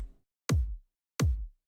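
Two dry, unprocessed kick drum hits from a music production session, each a punchy thump with a deep low-end tail, spaced evenly and heard alone with nothing else around them.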